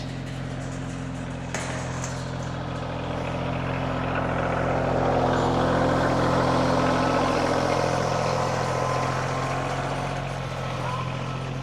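Farm tractor rolling out of a paddock through an open gate, a steady low diesel drone with a constant hum that swells slightly louder midway and holds on for the whole stretch.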